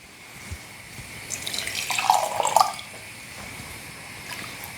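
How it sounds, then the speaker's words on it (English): Warm water pours from a ladle into a jar of honey, a soft, close trickle that swells and splashes briefly in the middle before settling back into a low, steady background. "We're going to take some of this warm water"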